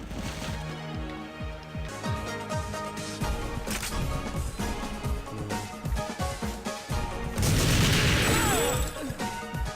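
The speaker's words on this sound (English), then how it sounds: "Bullets spraying at you." Rapid gunfire and crashing impacts in a PlayStation 2 shooter game, with repeated sharp shots and bursts, then a louder explosive blast near the end, close and dense.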